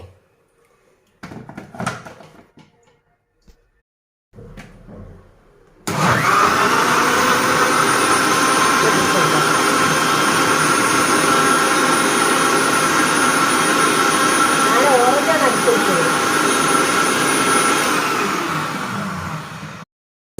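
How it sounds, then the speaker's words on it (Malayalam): An electric blender whirs steadily for about fourteen seconds as it blends juice with sugar, a loud continuous motor drone with shifting tone from the contents, preceded by brief clattering handling sounds. "അങ്ങനെ ഒന്ന് ജ്യൂസ് അടിക്കട്ടെ"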